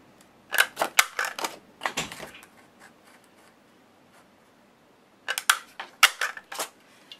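An EK Success paper punch cuts a border edge in two bursts of rapid, sharp clicks and crunches, close and crisp, separated by a quiet pause and some faint rustling.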